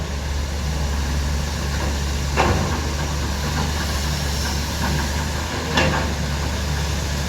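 JCB and Hitachi excavators working alongside a tractor on an earth-cutting job: a steady, loud low diesel drone with two brief metallic knocks over the rumble and no voices.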